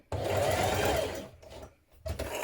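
A sewing machine stitches a trouser seam, running in a steady close whir, pausing briefly, then starting again, with no talking.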